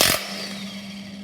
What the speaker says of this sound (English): I'm going to cheat and use the impact.